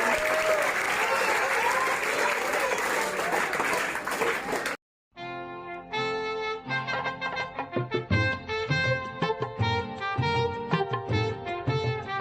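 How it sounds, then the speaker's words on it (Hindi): Loud audience applause fills a service-report event in Karala, Delhi, for close to five seconds, then breaks off sharply and gives way to music. "तो एक बार जोरदार तालियों के साथ में"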